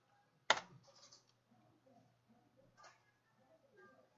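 A computer keyboard clicks during AutoCAD drafting, one sharp near keystroke followed by a fainter tap later, under quiet, low speech.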